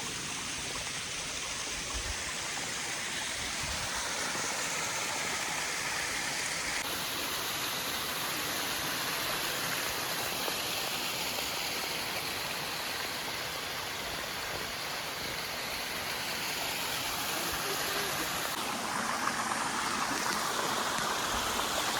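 Mountain stream on the Knuckles Five Peaks trail via Dawatagala, its water rushing steadily and evenly throughout with no voices, a close, continuous broadband flow.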